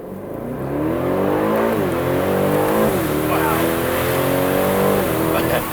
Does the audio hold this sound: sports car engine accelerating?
yes